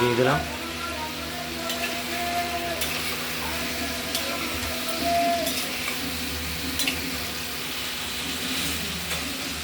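Pointed gourd (potol) fries in spiced oil in a pan for an aloo potol curry, a steady sizzle broken by sharp utensil clinks and stirring, with a person talking softly over it.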